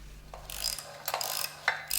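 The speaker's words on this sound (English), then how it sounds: "Unscrew the screws and remove the handle." Screws being unscrewed with a ratcheting tool to take the handle off a Flygt submersible sewage pump, heard as a few short, quiet clicking bursts with pauses between them and no talking.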